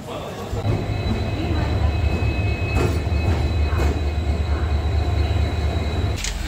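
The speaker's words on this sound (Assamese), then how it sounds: "ফাইনেলি আমাৰ ট্ৰেইনখনো আহিল" A train rumbles into a station in Meghalaya with a steady deep low drone, faint clanks and occasional metallic squeals, while people talk faintly nearby.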